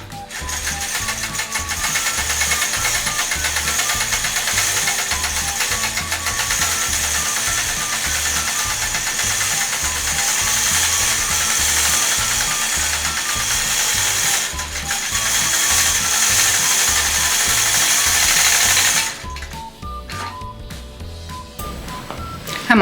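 A sewing machine stitches a quilt in a steady rapid mechanical rattle, close and loud, running continuously before slowing and stopping near the end.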